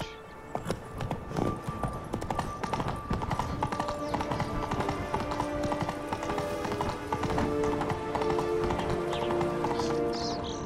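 Roach the horse gallops in The Witcher 3, hooves clip-clopping in a rapid, continuous rhythm, close and prominent over a faint ambient game background for the whole stretch.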